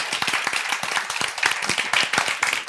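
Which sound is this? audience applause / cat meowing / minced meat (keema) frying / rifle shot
audience applause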